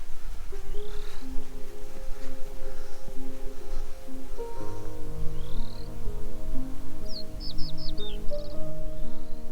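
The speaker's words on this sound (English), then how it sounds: "You can hear the birds chirping." Birds chirp and tweet intermittently in the distance outdoors near a windpump in Norfolk, with quick high trills toward the end over a steady hum of low background noise.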